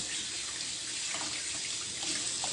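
Kitchen tap water runs steadily into a sink while meat is rinsed, a continuous close hiss and splash with faint shifting gurgles, no voices.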